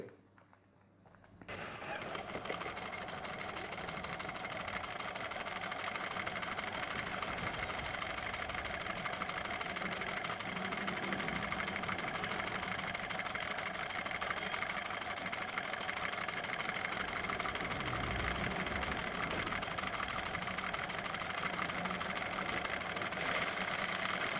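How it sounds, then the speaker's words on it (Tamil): A power sewing machine with a curved scroll hemmer foot stitches a rolled hem in fabric, giving a steady, continuous motor whir and rapid needle hum that runs unbroken for the whole stretch after a brief quiet start. "ப்ரெஷர் ஃபுட்டை சேஞ்ச் பண்ணி தைக்கிறேன் துணியில் நமக்கு ஃபோர் பாயிண்ட் எயிட் எம்எம் அளவு சுருட்டி தைச்சு கொடுக்குது"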